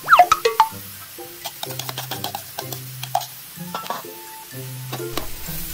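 Cooked rice being stirred and fried in a hot pan for Thai egg fried rice, with repeated scraping and clattering of the utensil against the pan over a steady sizzle, close and fairly loud.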